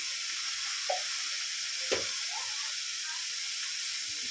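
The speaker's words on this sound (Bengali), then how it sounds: "ভালো করে এটাকে নেড়ে চেড়ে একটু মাখিয়ে নেব" Cabbage with ground Kashmiri chilli, coriander, cumin and garam masala frying in a pan, a steady faint sizzle with two brief stirring scrapes, close up and with no voices.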